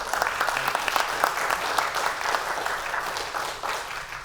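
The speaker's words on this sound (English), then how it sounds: "One more round of applause." An audience applauds at the end of a Yiddish song concert in a synagogue, with sustained, dense clapping filling the hall steadily for several seconds and no talking over it.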